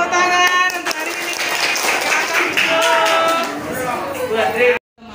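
A school class claps for a few seconds, a quick burst of hand claps in a classroom with a voice speaking over them before stopping abruptly.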